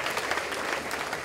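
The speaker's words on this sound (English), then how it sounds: "Let's give him a round of applause" A crowd applauds steadily at an annual meeting, a brief, dense wash of clapping with no one speaking.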